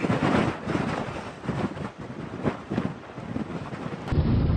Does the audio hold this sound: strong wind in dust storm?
yes